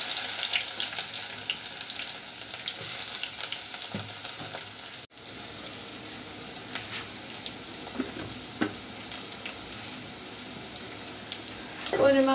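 Chopped garlic and onion frying in oil with a steady close sizzle and crackle, occasional stirring clinks, and a brief gap partway through; no talking.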